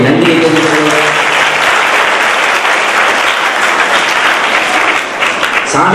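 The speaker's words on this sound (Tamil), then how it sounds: "உங்கள் பலத்த கரகோஷத்துடைய நன்றியை கூறுகிறேன்" Loud, sustained applause from a large audience at a public function fills the air continuously for several seconds, a thick, even roar of many hands clapping with faint voices mixed in.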